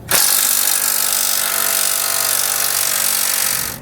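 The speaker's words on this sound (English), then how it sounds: "I'm going to use an 18mm socket to pull those nuts out." Power tool with an 18mm socket, likely an impact driver or drill, spins nuts off a 2018 Jeep JK Wrangler Unlimited during base plate installation; a loud, steady whir runs nearly four seconds without talk.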